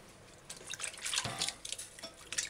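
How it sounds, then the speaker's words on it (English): Tap water runs over garlic, scallion and tomato being rinsed, an irregular close splashing and dripping that swells and fades as the vegetables move under the stream. "rinse the garlic, the scallion, and the tomato. Do this under running water"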